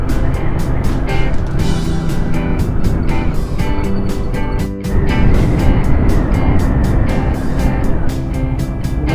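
A Honda Click 125 V3 motor scooter rides through heavy traffic, with a loud, continuous engine drone and strong wind rush that stays close and steady throughout.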